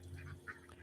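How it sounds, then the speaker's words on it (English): Muscovy and Akana ducks on a small farm give a few short, soft quacks over a low background hum, faint and close, with no one talking. "We have Muscovy ducks and Akana ducks and various chickens."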